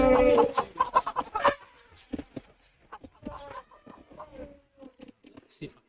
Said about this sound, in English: All I can hear is chickens and animals getting killed.